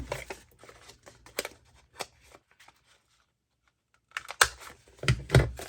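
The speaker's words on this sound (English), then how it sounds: "let's go ahead and cut the circle out." Paper is cut into a circle for handmade bookmarks, heard as close, crisp scissor snips in irregular bursts, with a quiet pause between snipping runs.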